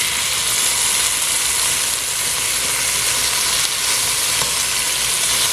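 Okra sizzles in a frying pan, a loud, close and continuous crackling hiss that holds steady throughout with no voices.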